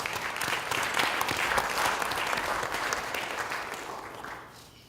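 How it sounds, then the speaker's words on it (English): A dense round of applause from the audience at a ministerial panel discussion during the CANTO 2017 conference. It is steady and full for about four seconds, then fades away at the end. "Please give them a warm round of applause."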